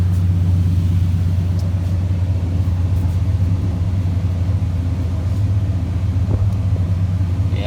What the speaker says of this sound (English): Give the wheel a spin.